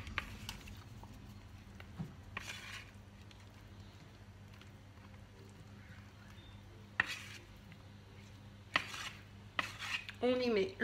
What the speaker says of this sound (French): Je viens déposer dans ma tarte mon mélange de mascarpone.